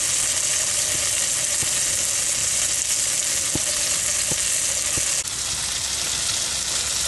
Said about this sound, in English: You can't beat a bit of the old cold mornings, a bit of the old fry up.